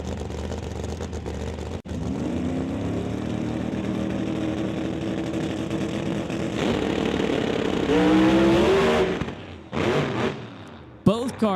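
Pro Mod drag cars at a West Coast drag race launch with a loud, sustained engine roar that rises in pitch, breaks into rough tire-shake pulsing, then cuts off abruptly, leaving a few sharp pops and quieter engine sound.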